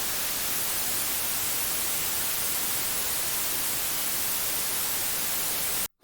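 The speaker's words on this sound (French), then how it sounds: "Écoutez maintenant cet autre enregistrement de même durée, mais cette fois-ci de niveau sonore constant." Broadband hiss-like recorded noise holds one constant loudness throughout, then cuts off abruptly at the end.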